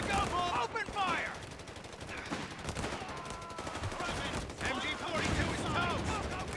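Gunfire from soldiers in a Company of Heroes 3 battle, rapid bursts and shots crackling steadily through the whole stretch alongside a voice talking over the combat.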